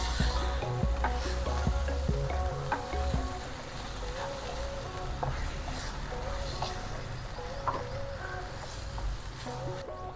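Methi matar malai curry being stirred in a pan with garam masala, a soft continuous sizzle with faint scraping and clinks of the spoon, fairly quiet and close.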